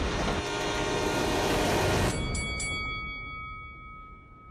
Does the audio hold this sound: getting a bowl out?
no